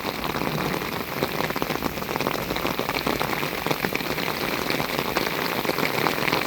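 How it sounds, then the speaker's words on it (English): Heavy pouring rain drums steadily on surfaces and into a rain bucket, a dense, even hiss of countless drops that stays loud and close throughout without any talking. "See, it's filling up my one rain bucket."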